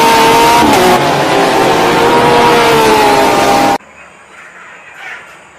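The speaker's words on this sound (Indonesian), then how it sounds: "ini ada mobil balap warna hijau." A toy racing car's motor whines at a steady, high rev for a few seconds, then cuts off abruptly, leaving quiet background noise.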